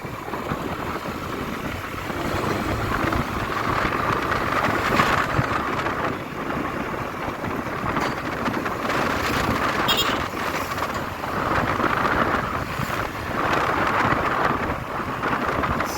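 Strong wind buffeting a motorcycle-mounted microphone on a Skygo Lance 150 ride near a windmill farm, a constant loud roaring rush with gusty swells throughout, no speech.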